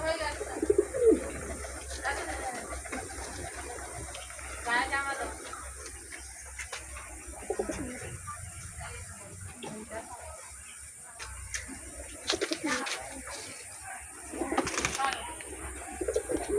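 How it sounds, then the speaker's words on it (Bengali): Pigeons in a loft coo softly and intermittently in low, rolling calls, heard faintly beneath frequent nearby talking and handling noise. "এই দেখুন নাচছে পায়রাটা।"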